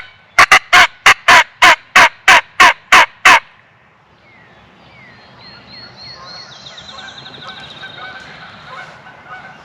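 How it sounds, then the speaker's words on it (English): Wild turkey gobbler on Ohio public land in spring, a loud rapid string of about ten sharp gobbling pulses, followed by quieter morning birdsong in the woods. "Got a gobbler struck right out here."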